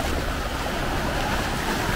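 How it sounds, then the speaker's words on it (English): Ocean waves wash in at a beach in Cozumel, Mexico, a loud, continuous broadband roar of surf mixed with wind buffeting close to the microphone. "the waves are coming"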